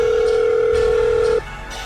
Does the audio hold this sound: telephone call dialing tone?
yes